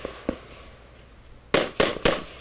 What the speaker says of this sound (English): You can see the popper straight down range that I'm going to try to hit with my last acrobatic shot.